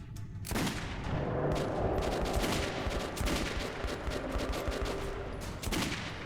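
Gunfire in the video game Metro 2033 Redux, rapid loud bursts of shots rattling almost continuously for several seconds after a quiet start, dense and close with sharp repeated cracks.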